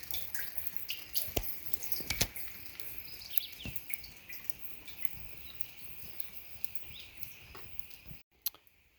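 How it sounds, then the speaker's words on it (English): Slow, irregular water drips fall into a rain barrel outdoors, each a sharp, fairly close plink over a faint background of birdsong and ambient noise, with no voices. "Refilling my rain barrel."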